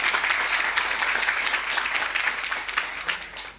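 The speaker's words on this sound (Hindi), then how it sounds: "मैं चाहूंगा उसके लिए एक बार जोरदार ताली।" An audience at a direct-selling business seminar bursts into loud, dense applause that holds steady, then tapers off toward the end.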